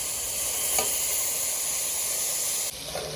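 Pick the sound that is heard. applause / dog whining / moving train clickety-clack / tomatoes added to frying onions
tomatoes added to frying onions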